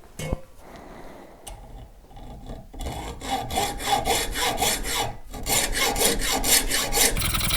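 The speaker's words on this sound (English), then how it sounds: "I'm just going to be cutting this with a normal hacksaw." A hand hacksaw cuts through a bone guitar nut blank in a workshop, a short hesitant start giving way to steady, rapid back-and-forth rasping strokes, close and fairly loud, with no talking.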